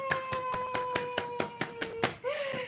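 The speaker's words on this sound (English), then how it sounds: "I think we deserve a round of applause" Roughly nine evenly spaced hand claps from a single person in a quiet indoor space, close and fairly soft over a faint steady tone, then a short vocal sound at the end.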